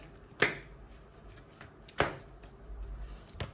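Tarot cards laid one at a time on a table, giving two sharp, close card slaps about a second and a half apart and a fainter third at the end, against a quiet room.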